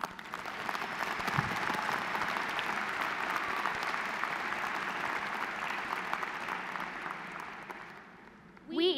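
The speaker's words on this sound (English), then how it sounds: "let's give ourselves a round of applause." Sustained applause from an audience at a fall convocation ceremony, steady and fairly dense for most of the clip, then thinning toward the end as a voice starts to come in.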